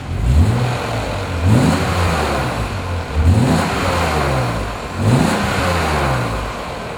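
A 2000 BMW M Roadster engine revs up repeatedly in four rising bursts, each growling upward then settling back, loud and close with no talking.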